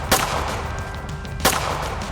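Gunfire in the Dead in the Water video game: two sharp shots about 1.3 seconds apart, fairly close and loud over a steady background hum.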